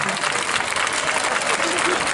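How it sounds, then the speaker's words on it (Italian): Audience applause at a Corrida talent show in Sant'Arpino, a dense, steady wash of clapping that holds at an even loudness for the whole stretch with no gaps. "un grande applauso"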